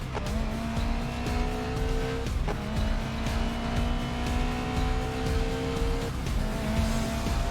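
Car drifting in the racing game Grid Legends, with a steady engine drone and sustained tire squeal in long bright whines that break off and resume at about 2.4 and 6.1 seconds, loud and close throughout.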